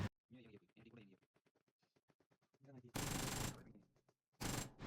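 Two loud bursts of automatic AKM rifle fire in the mobile battle-royale game BGMI, each lasting about a second or more, coming after a stretch of close talking.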